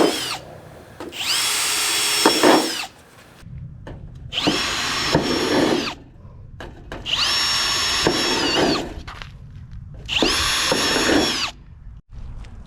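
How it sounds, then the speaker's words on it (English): A power drill drilling drain holes in a rain gutter whines in four separate bursts of a couple of seconds each, loud and close, with quiet gaps between runs. "we want to go ahead and drill the bottom, give you some good drain holes"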